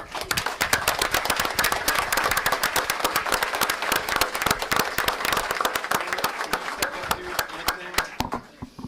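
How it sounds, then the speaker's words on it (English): Dense, sustained clapping from an audience at a county school board meeting, greeting elementary students after their introductions, with sharp, rapid claps filling the room and tapering slightly near the end. "How about a round of applause?"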